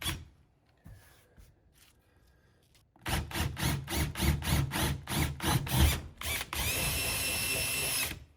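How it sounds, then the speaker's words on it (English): A power drill bores a hole through a countertop during an under-sink reverse osmosis purifier install, running in loud rhythmic bursts of pulsing grind after a quiet start, then a steady sustained whine near the end. "So a little trick when you're drilling holes through a countertop like this"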